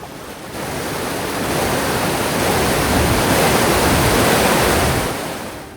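Flood water on Little Cottonwood Creek in Utah rushes in a loud, continuous roar that swells slightly and then eases, with no voices.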